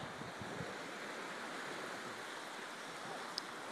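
Gentle Gulf beach waves wash in as a soft, continuous surf wash, fairly faint and even, with no voices over it.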